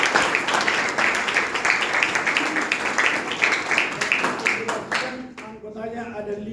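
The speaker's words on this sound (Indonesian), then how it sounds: "Tepuk tangan dulu atau itu." Audience at a church council meeting gives a round of applause, dense clapping that pulses for several seconds, then thins to scattered claps as a voice begins speaking.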